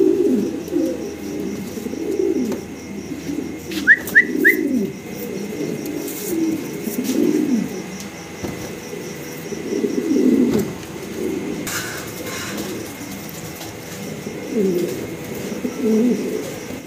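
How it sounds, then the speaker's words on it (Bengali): A pair of black Pomeranian pouter pigeons coo repeatedly in low, rolling bursts, close and fairly loud, with a few faint chirps and background rustles between calls. "সুন্দর এক জোড়া ব্ল্যাক প্রমিনিয়ান পটার"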